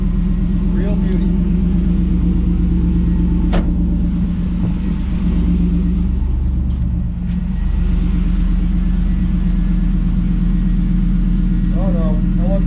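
A car's LS1 V8 idles close by with a steady, heavy low rumble that holds throughout, while people talk over it.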